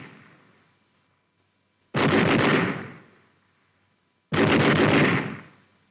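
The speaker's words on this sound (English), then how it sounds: "This permits spraying of a target with a continuous stream of fire." Automatic weapon fire in two separate roaring bursts, each loud and sustained for about a second and a half and ending in a fading tail, with a silent gap between them.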